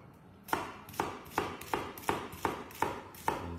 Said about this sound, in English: we're just going to chop up our onions